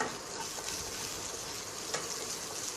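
Green chillies and onion frying in oil in a pan, a soft, steady sizzle with occasional faint stirring scrapes, close but quiet, no voices.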